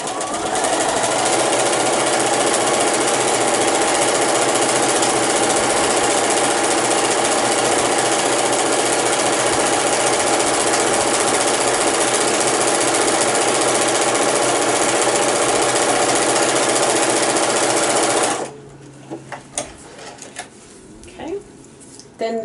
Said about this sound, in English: I switch to a zigzag stitch, and I'm going to clean finish this edge where the zipper and the fabric meet.